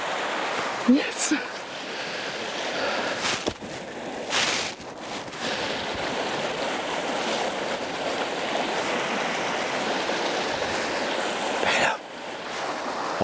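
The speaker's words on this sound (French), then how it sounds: "Je traverse la rivière" Steady rushing water of a river being crossed fills the whole stretch, with a few louder splashes and bursts of wind noise.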